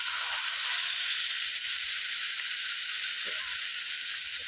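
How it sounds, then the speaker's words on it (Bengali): Spiced chang fish sizzling hard in a hot pan as water is poured in, a steady loud hiss and crackle of frying throughout with no talk. "মাছগুলো কষানো হয়ে গেছে বন্ধুরা, এবার আমি পাশ দিয়ে জল ঢেলে দেবো।"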